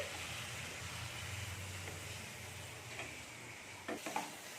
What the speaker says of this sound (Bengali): সাথে আলু আর গাজরটাকে আমি পুরো নেড়ে নিচ্ছি